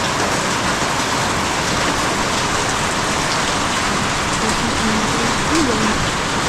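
Heavy rain pours steadily and loudly, a dense unbroken hiss with no pauses throughout.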